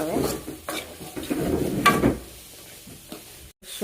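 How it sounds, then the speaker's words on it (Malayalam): Beef with shallots, onions and green chillies sautés in a pan, with a steady sizzle under repeated scraping strokes of a spoon stirring, close and moderately loud. "കൊച്ചുള്ളി, സവോള, പച്ചമുളക് ഇതെല്ലാം ഇട്ട് കൊടുത്തു. ഇതൊന്ന് നമുക്ക് നല്ലപോലെ വഴറ്റിയെടുക്കാം."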